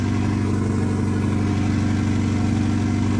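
A straight-piped Nissan 240 idles loud and close, its deep lumpy exhaust pulsing in a steady rhythm with no one speaking over it.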